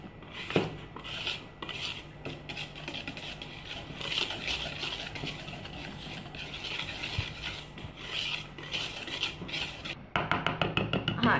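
Cocoa and baking powder are stirred together in a bowl while preparing a Kinder Délice-style cake, giving continuous scraping and rubbing with repeated utensil clinks against the bowl, ending in a burst of quick rhythmic taps.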